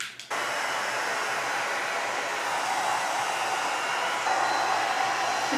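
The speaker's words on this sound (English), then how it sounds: "I'm just gonna go over it with my little blow dryer." A small handheld blow dryer runs steadily and close, a continuous loud airy whoosh after a brief start, with no talking over it.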